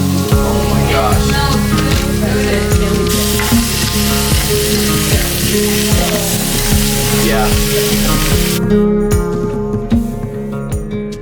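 Fresh-caught fish fry in a pan with loud, continuous sizzling and crackling that is dense with popping spatter, close and steady throughout, with faint background voices and clatter.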